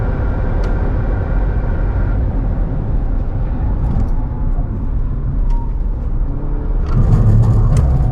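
A Toyota Gazoo Racing car with a CVT gearbox accelerates, its engine holding a loud, steady drone close by with little change in pitch.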